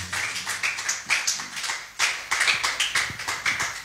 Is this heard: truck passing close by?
no